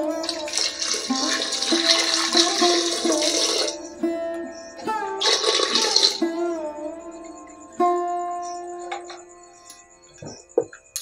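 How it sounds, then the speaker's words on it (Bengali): Warm water poured into a pot of mutton leg soup, a splashing pour in two bursts separated by a pause, followed by quieter ringing tones and light clinks, no voices. "এবার এর মধ্যে দিয়ে দেব উষ্ণ গরম জল।"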